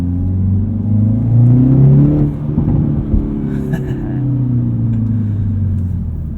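A 2019 Hyundai Veloster N Performance Pack engine in N mode accelerates hard, rising in pitch through a gear, then a brief dip and a steady loud drone, close and prominent inside the cabin.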